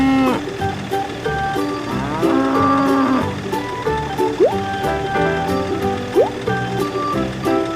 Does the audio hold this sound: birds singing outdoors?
no